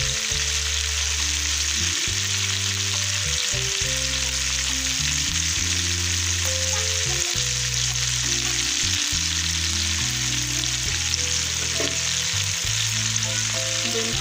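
Fish pieces frying in a pan of hot oil, a loud, continuous close sizzle that holds steady throughout with no talking.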